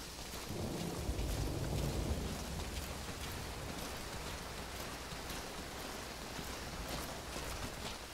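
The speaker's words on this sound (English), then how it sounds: "Is it just the rain?" Steady rain pours throughout a nighttime scene in the video game Metal Gear Solid V: Ground Zeroes, a dense, even hiss with a heavier low rumble in the first couple of seconds, no voices over it.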